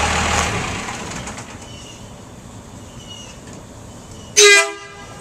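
A loud, brief blast from an air horn on a Dodge Turbo Diesel 250 3/4-ton pickup truck sounds near the end. Before it, a rumbling vehicle and outdoor noise run steadily.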